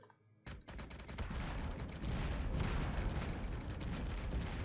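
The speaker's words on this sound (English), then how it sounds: "Here comes those torpedoes from... Ah, damn. Torpedoes missed" Torpedoes striking ships in the space combat game Battlestar Galactica Deadlock: after a short quiet start, a loud, continuous barrage of booming impacts and rumbling blasts rolls on without pause.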